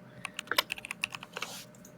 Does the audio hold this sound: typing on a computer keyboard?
yes